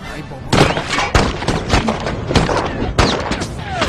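Gunfire in a Jackie Chan action film: rapid loud shots and sharp bangs crackle in an irregular fusillade, with a voice briefly under the shooting.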